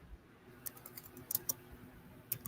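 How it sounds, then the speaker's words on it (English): Computer keyboard typing, quiet and close, in short irregular bursts of clicking keys over a faint room hiss, with no talk. "You hear me typing?"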